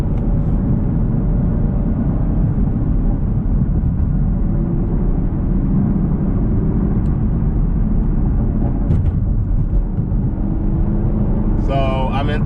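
A 6th-generation Chevrolet Camaro's engine drones loud and steady from inside the car while cruising in third gear at about 50 mph, with a constant rumble and no break in the noise.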